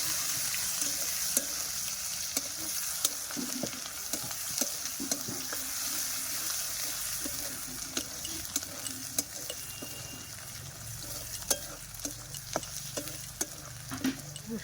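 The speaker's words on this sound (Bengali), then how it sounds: "রসুনটা ভাজা ভাজা হয়ে গেছে," Crushed garlic fries in a pan for a dish of mixed greens with prawns, giving a steady close sizzle broken by frequent scraping and tapping of a stirring utensil, with no voices.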